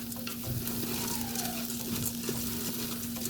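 Chopped onion and rice sautéing in a pan for smothered burritos, giving a steady, close sizzle with light stirring scrapes and a faint constant hum beneath, no talking.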